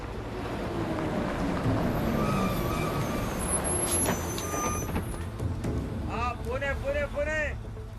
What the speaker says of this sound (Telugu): ఏదో బస్సు వస్తుందిరా.